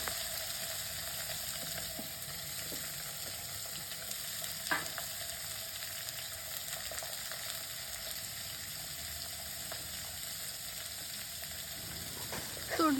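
Ivy gourd (tondli) frying in oil with chili powder, coriander powder, turmeric and salt gives a steady, even sizzle throughout, with a few faint utensil clicks and a brief scrape near the end.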